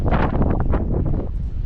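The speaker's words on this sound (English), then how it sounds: "It's windy." Strong wind buffets the microphone at John O'Groats on Scotland's north coast, a loud, continuous low roar with gusty surges and no voices.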